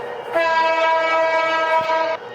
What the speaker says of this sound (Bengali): ট্রেনের হর্ন এরকমই হয়